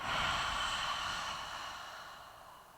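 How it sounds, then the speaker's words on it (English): A deep yoga breath during a wide forward fold, drawn in and released through the nose and mouth as one long, soft airy rush that fades gradually, close and alone with no talking. "Big breath in. And big breath out."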